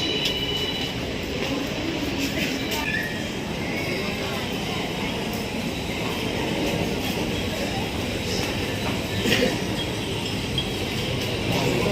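A train rumbles past steadily with dense low-frequency roar and faint rail noise throughout, a continuous close passage with no clear breaks.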